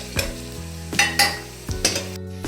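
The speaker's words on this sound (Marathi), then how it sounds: "मी कांदा टाकलाय आणि हा थोडंसं लालसर होईपर्यंत परतून घेऊया." Chopped onion frying in a pan for Maharashtrian khichdi, a steady close sizzle broken by several sharp scraping bursts as a spoon stirs it around, with no talking.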